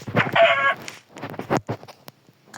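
A chicken in a PUBG match gives a few short, close clucking bursts in an irregular rhythm that ends within a couple of seconds.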